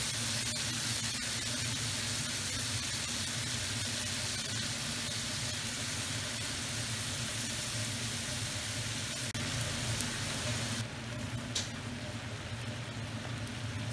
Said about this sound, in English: we just want to brown our meat until it's cooked and nice and tender